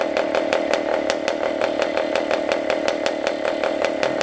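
A PAW compression-ignition diesel model engine burning a 30% oil fuel mix runs steadily at high speed, with a continuous buzzing drone and rapid regular pops, loud and close, with no talk.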